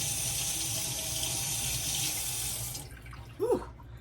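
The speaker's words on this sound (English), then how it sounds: "Let's rinse my fingers." A kitchen tap runs as oily fingers are rinsed under it, a steady close rush of water for nearly three seconds that then stops, followed by a brief soft vocal sound.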